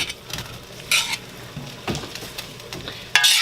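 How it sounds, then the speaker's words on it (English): Green beans and broccoli sauteing in sesame oil, a low sizzle broken by several sharp scrapes and clatters of a utensil stirring against the pan, close and uneven in rhythm. "So we're just going to saute these for a couple seconds before we add our other ingredients to our noodles."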